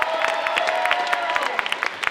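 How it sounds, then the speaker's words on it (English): A rally crowd claps in scattered, uneven bursts, with individual sharp claps audible and a sustained tonal hum running beneath the applause. "let's give a round of applause for Ismail Saeed"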